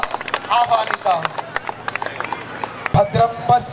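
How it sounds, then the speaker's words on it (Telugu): An audience claps to welcome guests for a lamp-lighting puja at the opening of a mandal sports meet, with scattered uneven claps rising and falling beside a speaking voice. "గట్టిగా చప్పట్లతో ఆహ్వానిద్దాం"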